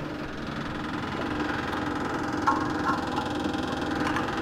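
A VW sand rail engine runs steadily at a rough idle, giving a continuous mid-pitched mechanical drone with slight knocking and faint rattles, close and unbroken throughout.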